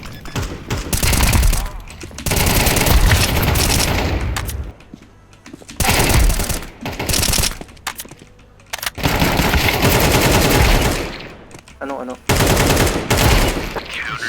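Rapid automatic gunfire in Counter-Strike 2 competitive Premier play, loud close bursts several seconds long separated by short pauses, with a player talking between them.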